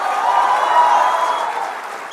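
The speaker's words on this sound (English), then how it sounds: "let us now welcome Tamil Nadu BJP President Thiru K. Annamalai to the podium with a huge round of applause." Applause from an event audience welcoming the Tamil Nadu BJP President to the podium, dense and steady throughout, loud and close, easing slightly toward the end.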